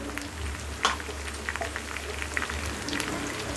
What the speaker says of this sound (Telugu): ఇవేళ వేగినాయి కదా, వేగాక ఇప్పుడు ఇందులో అరటికాయ ముక్కలు వేసి